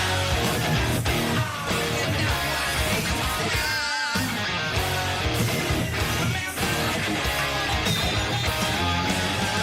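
Dense full-band rock mix with distorted electric guitar playing the pre-chorus of a song, loud and continuous with drums and a brief fill near the middle.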